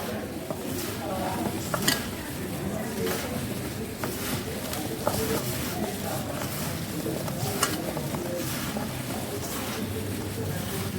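Green and red chilli pickle ingredients get mixed by hand in a bowl, giving a steady, close scraping and stirring rustle with light clinks throughout and no pauses.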